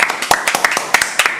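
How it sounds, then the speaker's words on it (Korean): Brief burst of clapping hands for a director at the close of a Korean live broadcast, sharp overlapping claps in a quick uneven rhythm, close and loud. "오랜 시간 수고해주신 강은영 감독 박수"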